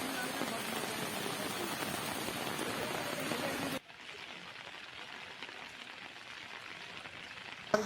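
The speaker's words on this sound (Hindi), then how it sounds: "इतनी बारिश हो रही है।" Steady heavy rain pours down with a dense hiss that drops noticeably quieter halfway through but keeps falling.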